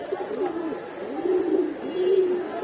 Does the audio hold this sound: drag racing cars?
no